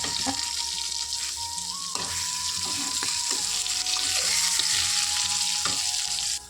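An egg frying in a pan, a loud continuous close sizzle with occasional spatula clicks and scrapes, cutting off abruptly at the end.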